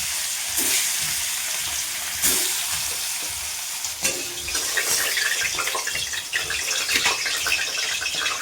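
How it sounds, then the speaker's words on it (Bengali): Fish dropped into hot oil in a kadai set up a loud, continuous sizzle, with sharp bursts of crackling as each piece goes in; no talking. "এই যে মাছগুলো ছেড়ে দিচ্ছি।"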